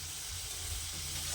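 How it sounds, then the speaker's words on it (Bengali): Potatoes for a meat dish frying in a pan give off a steady, close sizzle with a constant crackling hiss throughout, and no voices are heard. "এখানে আমার মাংসের আলু ভাজা হচ্ছে"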